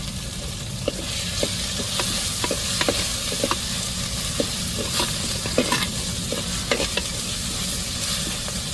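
Curry leaves sizzling in a hot frying pan of oil, a steady close hiss broken by repeated sharp spatters and stirring scrapes, with no voices.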